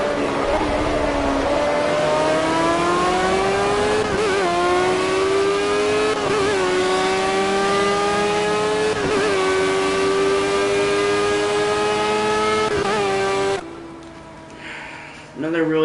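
A race car engine in the video game Project CARS screams at high revs, pitch climbing through the gears with brief dips at each shift, loud and sustained before cutting off near the end.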